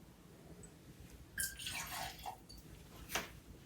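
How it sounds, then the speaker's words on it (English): Vodka is poured into a glass with a short, quiet liquid trickle and splash, close and faint, with a few drips following and no voices. "We'll do 2 ounces of vodka"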